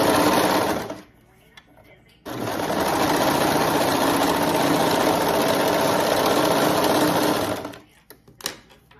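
A sewing machine stitches through three layers of fabric in two runs, a short burst and then a long steady whir, with quiet pauses and small clicks between.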